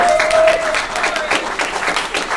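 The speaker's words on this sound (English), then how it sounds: "round of applause" An audience at a Hawaii legislative preview event breaks into steady applause, a dense patter of clapping with a few voices mixed in.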